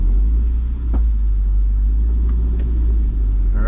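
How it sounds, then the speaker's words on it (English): A rebuilt Honda CR-V engine idles and rumbles steadily with a deep, loud low-end drone inside the cabin, with faint clicks of the gear shift into first and no talking. "We're literally shifting gears."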